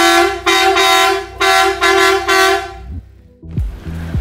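Marco truck horns fitted to a Suzuki Jimny sound three loud, sustained blasts in close succession, followed by a lower engine or vehicle noise at the end.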